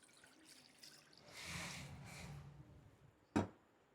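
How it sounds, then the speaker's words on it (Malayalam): Water poured into an electric kettle, a soft, faint splashing stream lasting a second or two. It ends with a short knock, with no talking. "ആൻഡ് നമുക്ക് ആവശ്യത്തിന് വെള്ളം ഒഴിച്ച് കൊടുക്കാം"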